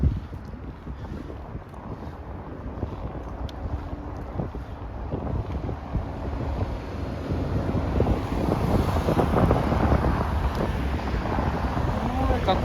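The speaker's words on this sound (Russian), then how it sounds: "какой ветер" Gusty wind buffets the microphone on a bicycle ride through Ukhta streets, with a low, rushing roar that grows stronger toward the end, with no clear voices.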